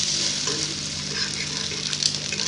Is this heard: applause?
no